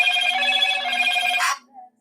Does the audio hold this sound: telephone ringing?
yes